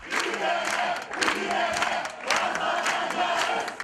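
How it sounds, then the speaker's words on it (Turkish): Families at a law school graduation applaud and chant slogans in support of the students, a dense crowd roar that swells in rhythmic pulses, with cheering voices blended in. "Öğrencilere aileleri de alkış ve sloganlarla destek verdi."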